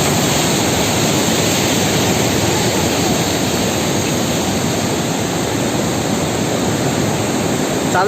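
Water roars through gate 40 of the Koshi barrage, a loud, dense, unbroken rushing torrent that stays constant throughout with no voices.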